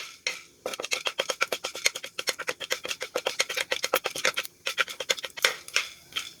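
Green cardamom, cloves and black pepper are lightly sautéed in a pan over low heat, making a fast, dense run of crisp crackles and scraping ticks that continues steadily, with brief pauses and no voices.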